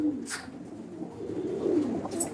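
A very old full-colour pigeon, kept about twelve or thirteen years in a Kolkata loft, gives a low, continuous coo close by, with a couple of faint brighter chirps.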